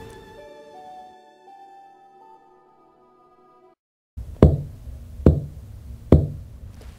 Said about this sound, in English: I can hear something tapping.